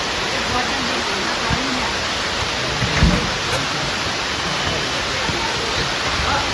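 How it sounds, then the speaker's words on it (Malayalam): Heavy rain roars in a dense, steady wash near Meenmutty waterfalls in Kallar, with a low rumble and a few faint voices underneath. "മഴ തോരുന്ന ലക്ഷണമില്ല"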